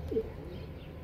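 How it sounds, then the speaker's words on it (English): Pigeons sheltering beneath rooftop solar panels give a soft, low, murmuring coo close by, one fuller call near the start and then a continuous muffled burble under the panels. "there are pigeons underneath still"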